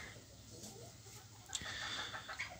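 Brahma ornamental hen clucking faintly in a farmyard, soft low murmurs with a brief sharper note, set against steady background hiss.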